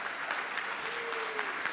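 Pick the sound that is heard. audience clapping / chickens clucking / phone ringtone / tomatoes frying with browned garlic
audience clapping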